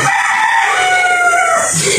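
A rooster crows on a farm in a long, strained call over a constant broadband hiss of outdoor noise, fairly loud and continuous throughout.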